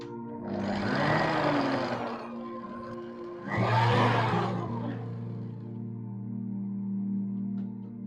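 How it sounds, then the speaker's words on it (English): Coconut cake batter is whisked in two loud whirring bursts over a steady low hum, the second burst slightly stronger before the sound settles back to the hum. "We'll whisk it slowly."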